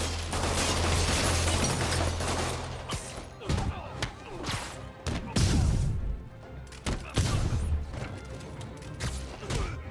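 Gunfire from criminal enemies in the video game Spider-Man on PS4, bursts of loud shots and mechanical clatter coming in uneven clusters, mixed with impacts and game action.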